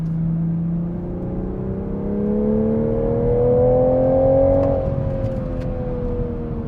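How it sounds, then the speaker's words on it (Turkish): A 2021 Toyota Supra's engine in sport mode climbs in pitch under hard acceleration, exhaust growing louder for several seconds before easing off, close and continuous. "Hadi gazlayalım bu araca."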